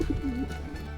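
A pigeon's low, rolling coo sounds up close, a soft throaty warble lasting about a second.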